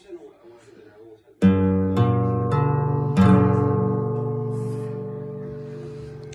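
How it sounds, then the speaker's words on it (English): A slightly out-of-tune guitar strummed in a few chords, the strings ringing on and slowly fading, close and clear after a brief murmur of voice. "It is a Guitar."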